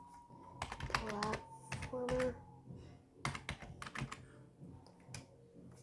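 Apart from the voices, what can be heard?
typing on a computer keyboard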